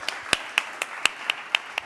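An audience claps at a startup competition finalist session for a presenter. The claps are sharp and sparse and fairly quiet, about eight distinct hits spread evenly, sounding more like a few people clapping than a full room.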